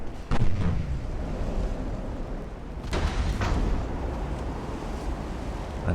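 Naval gunfire and shell impacts in the warship game Ultimate Admiral: Dreadnoughts, a rumbling barrage with a few sharper booms standing out over continuous low battle noise.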